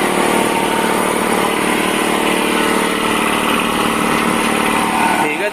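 A 3HP INGCO air compressor with a 100-litre tank running steadily, a loud, dense mechanical drone with a constant high whine, close by and unbroken throughout.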